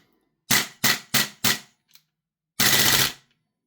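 A Daniel Defense PCC gas blowback airsoft rifle fires four sharp, punchy single shots in quick succession, then after a short pause a fast, high-rate burst lasting about half a second, close and crisp against silence.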